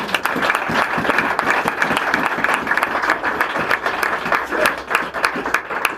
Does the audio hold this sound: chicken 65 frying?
no